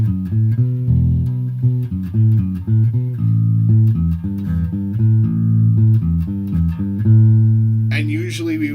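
Bass guitar plays the chorus of a theme, a steady run of plucked low notes in a repeating phrase, close and clear, ending with a short noisy scrape.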